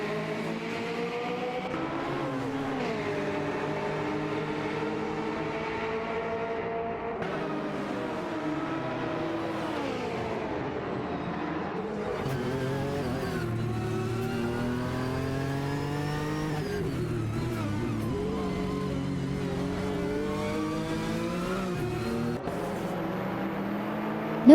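Several race cars in an AI-driven racing video game, engines droning and shifting pitch together as they rev and change gears, a steady continuous roar with no talk.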